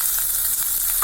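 Onion sizzling in hot oil in a kadai, a dense, loud, continuous hiss close up with no talk.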